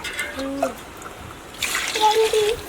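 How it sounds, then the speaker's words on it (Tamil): Water pours into a large pot for chicken biryani being cooked outdoors on a rooftop. A steady splashing rush starts partway through, following a voice and continuing under his talk. "பிரியாணிக்கு தண்ணி ஊற்ற போகிறோம்"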